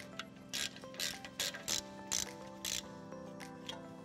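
A ratchet tightens new brake caliper bolts on a car's front brakes with a series of quick bursts of rapid clicking. The bursts are separated by brief pauses over a low mechanical hum, with no talking.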